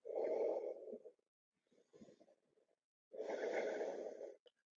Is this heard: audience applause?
no